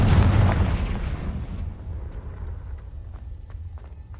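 A Confringo blasting spell in Hogwarts Legacy goes off as a loud, close explosive burst that dies away within about a second and a half, followed by quieter rumble and light tapping footsteps.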